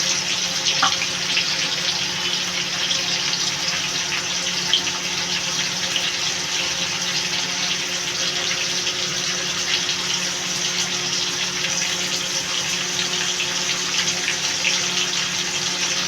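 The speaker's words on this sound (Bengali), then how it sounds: "এবার বন্ধুরা এসে জলটা দিয়ে দেবো" Water runs steadily into a cooking pot over grated coconut to draw out coconut milk: a constant, fairly loud rushing pour with no break, heard alone.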